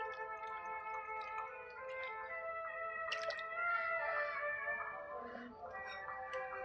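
Water trickles and drips steadily into a pan set on the stove to start a thin sugar syrup for rasgulla, a light continuous splashing with a few brighter spatters partway through.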